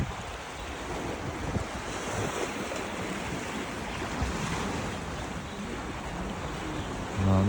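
Surf at Repulse Bay beach in Hong Kong washes in as a steady, broad rush of waves with wind buffeting the microphone, continuous and fairly loud throughout.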